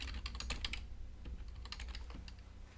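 Computer keyboard keys clatter in quick, irregular bursts as someone types a command into a console, close and fairly quiet, with no voices.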